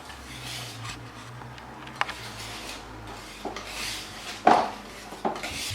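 Tiramisu cream being gently stirred in a bowl, soft rubbing and scraping with a few light clinks of utensil against the dish, quiet and close with no talking.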